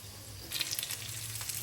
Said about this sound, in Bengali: আমি প্রত্যেকটা মাছ ভেজে নিয়ে ফিরে আসছি।